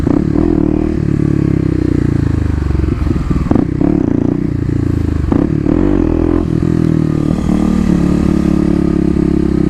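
A Kawasaki KLX250 dirt bike accelerates hard in first gear for a wheelie, its single-cylinder engine loud and close, with steady throttle and a few brief rev surges and clatters.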